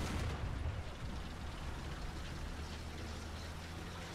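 A KV-122 heavy tank in War Thunder fires its cannon, a booming shot at the start followed by a long, steady low rumble of engine and ambience, moderately loud with no voices.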